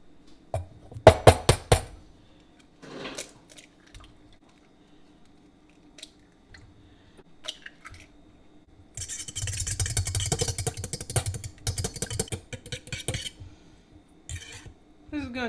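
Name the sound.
beating eggs with a fork in a mixing bowl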